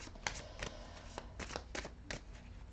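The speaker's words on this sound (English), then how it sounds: "And let's shuffle a little more." Tarot cards being shuffled close by, a handful of soft papery riffles and slaps against a quiet background.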